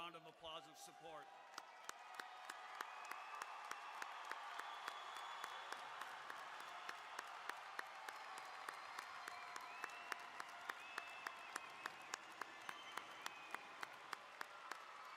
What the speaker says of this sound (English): give them a round of applause of support